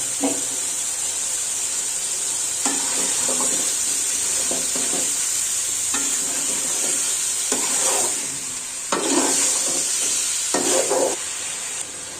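Vegetables for vegetable khichuri frying in a pan with a steady sizzle, broken by several scraping stirs of a spoon, close and fairly loud.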